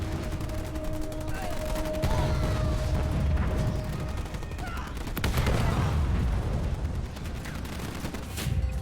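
Dense, continuous gunfire rattles against a Scorpion tank in Halo Wars 2 amid battlefield rumble and occasional heavier impacts, a steady loud barrage throughout with faint voices underneath.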